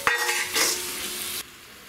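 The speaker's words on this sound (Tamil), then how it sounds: "இது வந்து நல்லா வதங்கட்டும்." Green chillies and mint sauté in a hot pan for prawn biryani, giving a loud, steady sizzle with a brief stirring scrape before the frying noise drops away sharply near the end.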